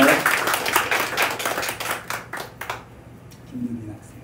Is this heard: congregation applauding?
yes